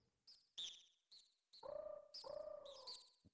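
A voice imitates a bird call in an old-school video game as the player heads into Falcon Wood: several short, bright chirps, then two longer, lower cooing whistles, close and clear, with no talk over them.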